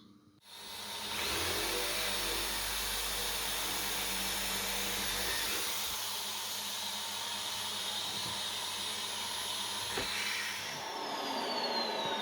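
A power drill whirs steadily as it bores pocket holes through wood held in a pocket-hole jig, a continuous close motor drone with slight shifts in pitch and a brief surge near the end.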